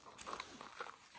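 A dog on an off-leash hiking trail gives soft, steady panting breaths with faint whimpery noises, fairly close and low in level, with no talk over it.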